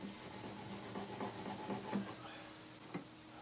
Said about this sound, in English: I'll grab a cloth just to get rid of all of the crap I can get off of the fretboard just by scrubbing it.